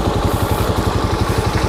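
Motorcycle engine struggling on slippery ground, a loud, steady pulsing rumble held close up without a break.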